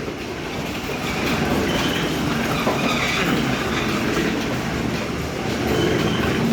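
A mustard oil mill expeller machine at a bazaar runs with a continuous, dense mechanical rumble and rattle, close and steady, with faint clanks and no break in the drone.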